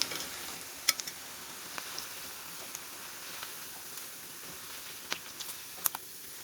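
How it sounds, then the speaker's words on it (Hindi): Moong dal pakoras frying in hot oil, a steady faint sizzle with occasional sharp clicks of a spoon against the pan, close and quiet, without speech. "ऐसे ही हम बाकी के पकोड़े भी फ्राई कर लेंगे"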